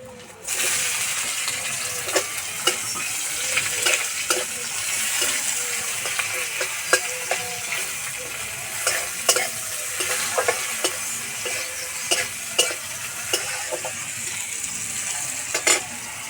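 Chopped onion hits hot oil with fried garlic, making a loud, continuous sizzle up close, punctuated every second or so by sharp scraping clicks of a spatula stirring the pan.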